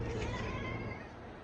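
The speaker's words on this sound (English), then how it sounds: "This is my cat, Cricket." A cat meowing indoors, a single drawn-out meow that fades toward the end, fairly faint and close with no talk.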